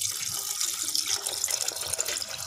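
Water poured from a container into a heap of raw cow dung for organic fertiliser, a steady close splashing stream lasting throughout, with no talking.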